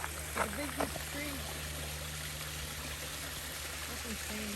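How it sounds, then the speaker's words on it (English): A creek with small waterfalls on a Toronto nature walk gives a steady rushing flow, moderately close, while a dog whines and people talk briefly over it. "More creek. More waterfalls."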